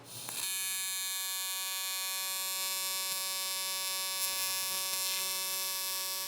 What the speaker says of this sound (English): we're gonna do some heavy welding.